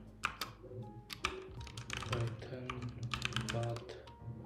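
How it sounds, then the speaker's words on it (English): Someone types commands into a terminal on a Mac M1 computer keyboard, giving an uneven run of quick key clicks with a steady background hum underneath. "first thing what I will be doing is I'll type here"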